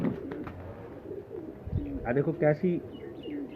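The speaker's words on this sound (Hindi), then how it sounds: "ये मेरिया फ्रांसियां कबूतरियां ने" French pigeons coo in a breeder's loft, a few soft, throaty, rolling coos rising near the middle, with someone talking over and around them.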